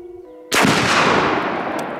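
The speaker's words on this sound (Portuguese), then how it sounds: "Mandou bem, excelente disparo." A sniper rifle shot into a watermelon outdoors: one sudden, loud, sharp crack that rolls into a long, broad echoing decay after a quiet start.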